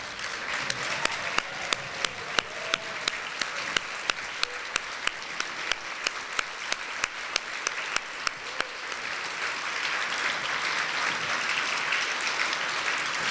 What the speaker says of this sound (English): will you please stand up so that we can give you a round of applause?